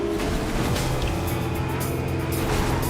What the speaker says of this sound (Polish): Siadam do auta i lecimy.